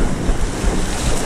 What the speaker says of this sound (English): Kind of use the waves to your advantage.